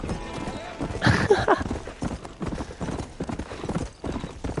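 A stolen horse gallops in Red Dead Redemption, hooves pounding in a fast steady rhythm close by, with a brief whinny near the start.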